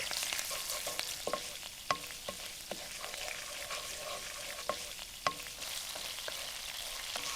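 Anchovies and garlic fry in oil with a soft, continuous sizzle, punctuated by occasional sharp pops and light stirring taps; no one speaks.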